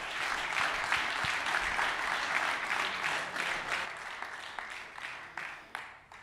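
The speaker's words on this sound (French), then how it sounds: "Je vous demande d'applaudir le numéro 1" A stadium crowd in Troyes applauds the ESTAC goalkeeper wearing number 1 as the team's title celebration begins, a dense, sustained wash of clapping heard from a distance that thins and fades toward the end.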